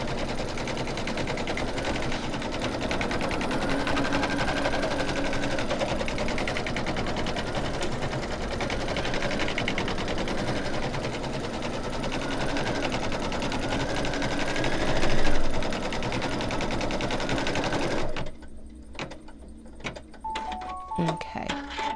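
An embroidery machine stitching the background of a snowman mug rug, a rapid, steady mechanical chatter of needle strokes running continuously before stopping abruptly, followed by quieter handling clicks and a faint voice.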